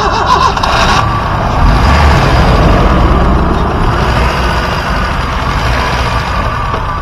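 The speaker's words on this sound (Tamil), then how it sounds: "வாங்க வண்டியோட இன்ஜின் சவுண்ட் எப்படி இருக்குன்னு கேட்போம்." A Honda VTEC car engine idles steadily and close by, giving a dense low rumble with a brief rise near the start and no talk over it.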